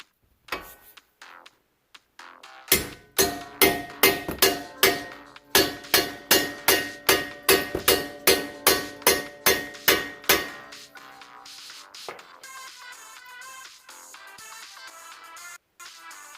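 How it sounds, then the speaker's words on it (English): Sharp metallic hammer strikes ring out in a fast, steady series, driving a Chevy Cobalt axle into its splines, about twenty blows with clanging resonance, then fading into lighter metallic clinks. "Those splines, then you'll have to hit it in with a hammer."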